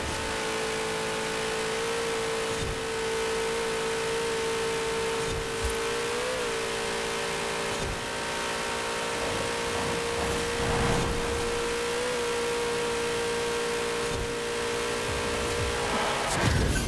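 A race car engine roars at full speed on a custom Le Mans track in Forza Horizon 4, a sustained, steady drone with slight pitch shifts and faint intermittent clicks, no voices over it.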